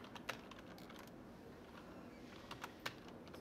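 Keys clatter on a computer keyboard as a short word is typed into a text box, with scattered sharp clicks in quick bursts over a steady quiet room hiss.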